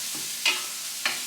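Carrots frying in a pan for a meatball sauce are stirred, with a steady soft sizzle and two brief scraping sweeps of the spoon, close by and alone.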